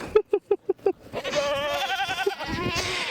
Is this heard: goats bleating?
yes